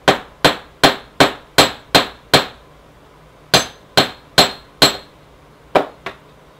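Metal hammer tapping wire flat for a wire-wrapped pendant: about a dozen sharp, ringing strikes in a steady quick rhythm, a short pause, then a few more blows, close and alone.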